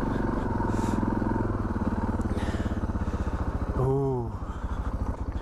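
A Suzuki DR650 fitted with a Lectron carburetor, ridden over bumpy ground, its single-cylinder engine thumping loud and close with a throttle blip and falling revs, while a rider exclaims briefly.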